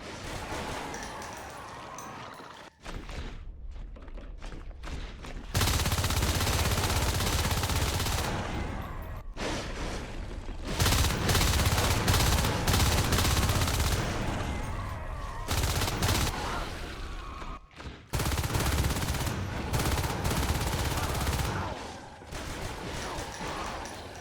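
Sustained video-game gunfire from a marine shooting at distant targets, with dense bursts of automatic fire and booming shots that continue almost without pause, loud and close, broken by a few brief gaps.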